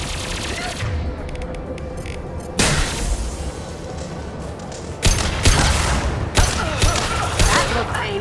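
Heavy weapon fire in the video game Mass Effect 2: dense bursts of rapid gunfire with several loud booming impacts that punctuate a constant barrage of combat noise.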